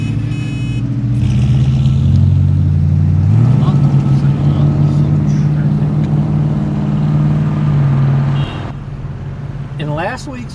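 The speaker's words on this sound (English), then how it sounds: "And also there's traffic." Road traffic near a sandy beach: a steady low engine rumble from passing vehicles lasts throughout, under a speaking voice.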